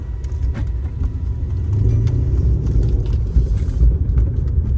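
A car engine runs with a heavy, uneven rumble, loud and close, with occasional rattles and knocks over the drone.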